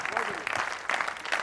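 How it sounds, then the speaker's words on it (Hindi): An audience in an assembly hall applauds after a poem recitation, a steady wash of clapping from many hands, with voices faintly underneath. "पूरा सदन एक बार तालियां दे, ये कविता की ताकत है।"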